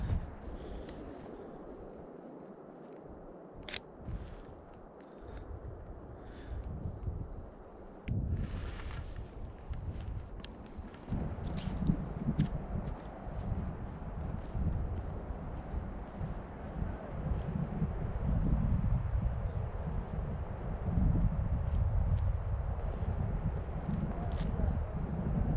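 Gusty wind buffeting a microphone outdoors on a hike up high, rumbling and roaring in uneven surges that grow stronger and more constant over time.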